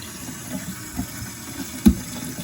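A tap runs steadily into a sink during a kitchen experiment, a soft continuous water hiss with one brief louder splash.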